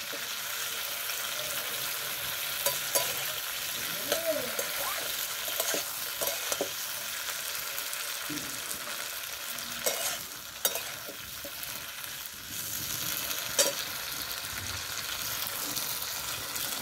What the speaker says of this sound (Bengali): ফুলকপি ভাজা চলছে